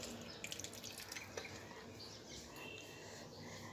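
Water is poured from a container onto a potted gardenia and other plants, heard as a faint, quiet trickle with a few soft drips in a still room.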